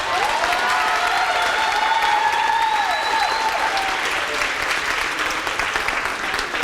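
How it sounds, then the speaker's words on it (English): Graduation audience at a 2024 academy ceremony breaking into sustained, loud applause with cheering and whoops mixed in, a dense crowd wash filling the whole stretch. "Now y'all clapping for them"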